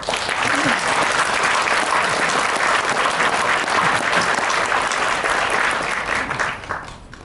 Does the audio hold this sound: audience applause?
yes